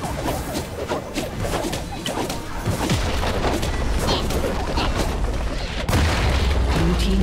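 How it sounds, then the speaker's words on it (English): A turret in League of Legends is destroyed, with booming impacts and crackling blasts over busy battle noise, loud and near, building to a heavier burst toward the end. "Blue team's turret has been destroyed."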